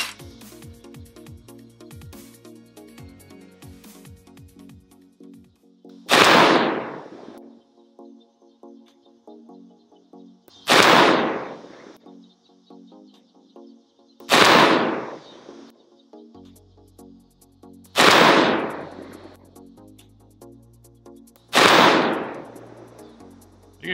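A CMMG Mk4 V2 AR-15 chambered in 22 Nosler and loaded with lighter rounds fires five loud, sharp shots spaced a few seconds apart outdoors, each with a ringing tail, with faint clicks and handling noise between them.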